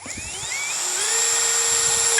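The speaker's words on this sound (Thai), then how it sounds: "ต่อไปเป็นการเจาะเหล็กนะครับ" A compact EMTOP drill boring into steel, its high motor whine rising steadily in pitch as the bit spins up, close and continuous.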